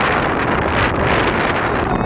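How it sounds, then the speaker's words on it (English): Strong wind buffets the microphone during a Christmas blizzard in Casper, a loud, constant roaring rush with no pauses. "The wind is not as strong as it was last night, thank goodness"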